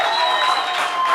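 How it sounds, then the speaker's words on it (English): Audience applause welcoming a stand-up comedian onto the stage, a short dense burst of clapping from the crowd, loud and continuous with no voices over it. "So get ready for your rapturous applause."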